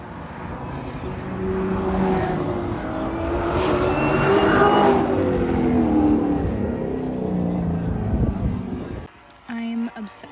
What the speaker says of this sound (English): So here is my last flyby I'm most proud of. Listen to the supercharger whine